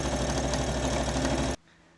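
A sewing machine hems a Samue jacket in a loud, steady, fast mechanical run of stitching that stops abruptly after about one and a half seconds, leaving near silence.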